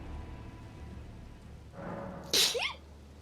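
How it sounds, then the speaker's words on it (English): A single sharp sneeze bursts out close by after a brief intake of breath, loud against an otherwise quiet room. "I gotta sneeze."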